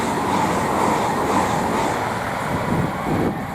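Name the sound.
Class 800 IET train 800-002 passing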